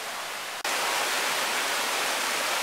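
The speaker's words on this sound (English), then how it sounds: "There's some white water down there, and that's a result of all the rains we took." White water rushes down a brook beside a hiking trail in Acadia National Park, swollen by heavy rain; a steady broadband roar that cuts in suddenly after a brief quiet moment and continues unbroken.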